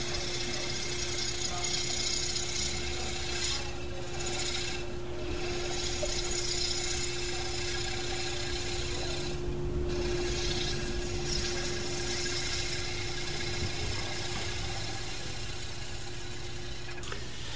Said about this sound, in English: speed the lathe up. So it's running, oh, I'd say about 600 or 700 RPMs